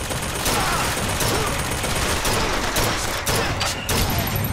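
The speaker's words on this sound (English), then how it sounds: "Look at that shooting." Gunfire in the video game Bioshock Infinite during a fight on a sky bridge, dense continuous shooting and explosions filling the clip with a few sharper bursts.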